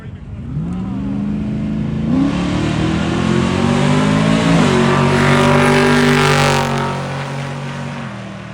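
A 1995 Ford Mustang drag car accelerates hard down a racetrack, its loud engine climbing in pitch through several gear changes before fading as it pulls away.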